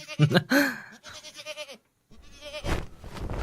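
A goat bleats in a few short, wavering calls, fairly close. A pause follows, then a burst of broad rustling noise.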